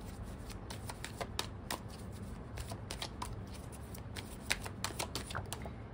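Tarot cards being shuffled and drawn, with soft rapid riffling and flicking clicks running continuously, faint and close.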